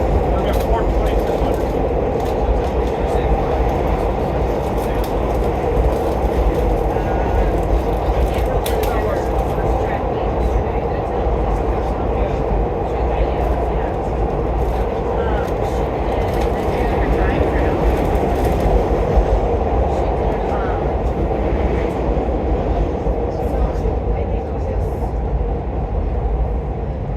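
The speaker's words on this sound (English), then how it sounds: "Please stand clear of the train. Train's not in service." Chicago 'L' 2400 Series rapid transit train running on the Kimball to Forest Park route, a steady loud rumble and rail roar that carries evenly throughout with no break.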